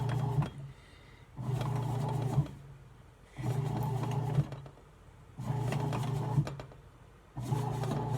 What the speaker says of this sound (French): je vais vous montrer ce que ça donne dans la machine durant que ça brasse